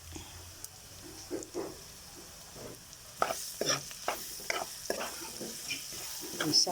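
Pagi is sautéed with black pepper, quiet at first and then a close sizzle with a run of spatula scrapes and taps that grows busier and louder in the second half.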